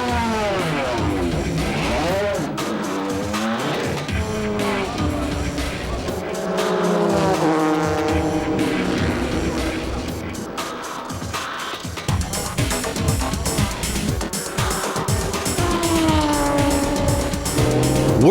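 After a driver change, the Denso race car in a JGTC series pit lane pulls away, its engine revving up and down through gears, loud and close, with a commentator talking over it.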